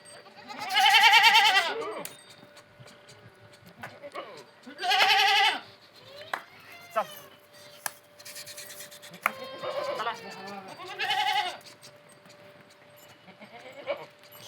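Goats on a goat farm bleat loudly and close, several drawn-out calls spaced a few seconds apart, with quieter bleats and shuffling between them.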